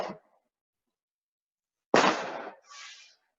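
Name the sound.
fireworks being shot off outside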